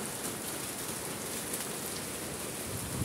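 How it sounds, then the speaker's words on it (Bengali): Steady rain falling by a fast-flowing river swollen with floodwater, an even, continuous hiss of drops with no voices. "তার মধ্যে বৃষ্টি হচ্ছে, অনেক পানি"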